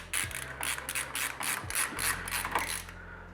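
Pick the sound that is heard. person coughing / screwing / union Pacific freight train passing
screwing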